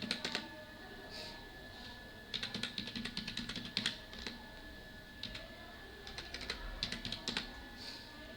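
Numbers are typed into an Excel spreadsheet on a computer keyboard: quick clusters of light plastic key clicks come in uneven bursts with short pauses, close and fairly quiet.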